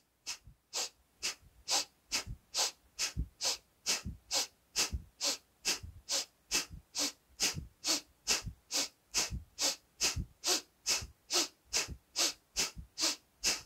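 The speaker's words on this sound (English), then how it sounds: "let's go and explore the faster pace for the fire breathing" Rapid fire breathing during a breathing lesson: a steady train of about thirty forceful nasal exhalations, evenly paced at roughly two per second, close and loud with no talk.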